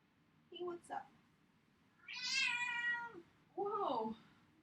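A house cat meows loudly three times, a short chirp followed by a long drawn-out wail and a final rising cry, close by in a quiet indoor room.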